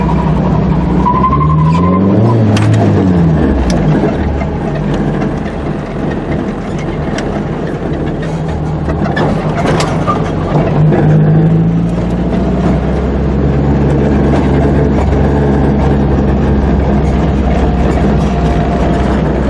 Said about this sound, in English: I'm just gonna flip a little U-turn here